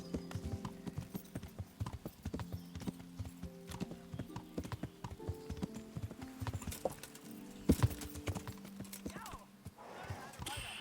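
Steady hoofbeats of a ridden horse clip-clopping in the medieval game Kingdom Come: Deliverance, a quick, even rhythm close up and continuous throughout, with faint game background underneath.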